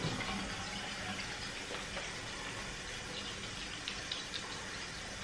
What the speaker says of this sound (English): So I'm gonna wash my face.